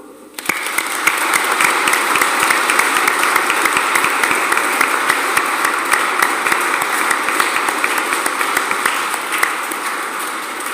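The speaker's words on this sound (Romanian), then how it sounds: "Și cred că sunteți în asentimentul meu să-i aplaudăm." A church congregation applauding after a solemn feast-day Mass, dense sustained clapping from many hands filling the room, loud and steady throughout and tapering slightly at the end.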